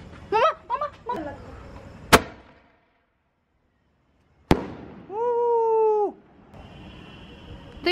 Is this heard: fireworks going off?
yes